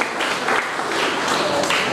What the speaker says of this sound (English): A huge round of applause once again for Sabha and Ms. Masira Khan for The Fox and the Crow.